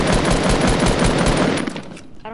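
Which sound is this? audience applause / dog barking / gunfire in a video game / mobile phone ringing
gunfire in a video game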